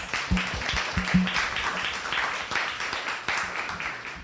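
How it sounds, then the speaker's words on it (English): Steady applause from a crowd, a dense wash of clapping that continues evenly throughout with a few sharper claps near the start. "Please give him a round of applause."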